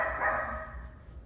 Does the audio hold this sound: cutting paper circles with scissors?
no